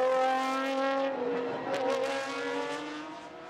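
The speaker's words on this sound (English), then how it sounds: "It's a proper Formula One style scream, isn't it, as the cars come down the pit straight." Lamborghini GT1 race cars scream down the pit straight at a racing circuit, a loud high-pitched engine wail that holds and gradually recedes as they pass, with no talk over it.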